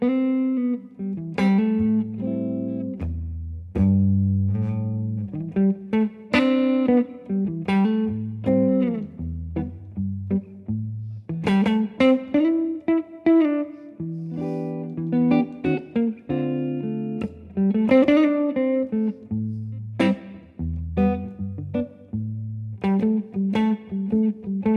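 An electric guitar played through a Supro Delegate Custom amp with its reverb off rings out loud and dry, moving between picked single notes and chords in a continuous, slightly overdriven phrase with no talking.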